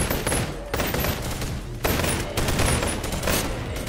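Pistol fire in the VR game Bonelab, on the Aquaduct Sector campaign mod level: fast, dense volleys of shots rattle steadily and close, with brief breaks near one second and again near two seconds.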